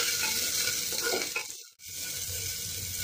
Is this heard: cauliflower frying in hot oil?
yes